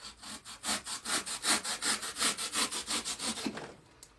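A flower stem poking out of the top of floral foam in a Valentine's wreath is trimmed off with quick, rhythmic back-and-forth rasping strokes, about a dozen close, loud cuts in steady succession before they stop.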